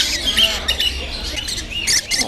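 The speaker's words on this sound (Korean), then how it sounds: "모란 앵무라고 하는 새의 이제 아기 새인데" Baby lovebird chick giving short high squawks and chirps indoors at a bird-contact experience venue, brief repeated calls close to the microphone with faint room noise.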